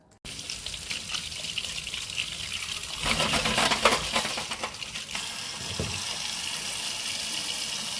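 Crab being washed in water with vinegar and salt, steady running and splashing water with louder sloshing bursts and faint knocks of shell, close and continuous.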